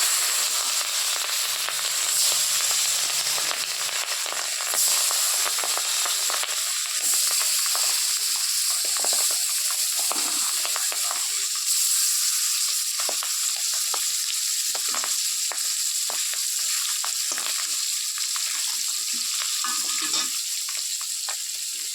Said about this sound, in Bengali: এবার মিষ্টি কুমড় ভেজে রাখা তেলটার মধ্যেই মাছটাও ভেজে নেবো